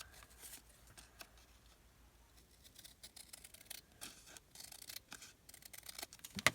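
Scissors cut the edge off a scrap of ledger paper left over from a handmade journal. Many soft, close snips and crisp paper rustles run in an uneven rhythm, quiet overall, with no talking.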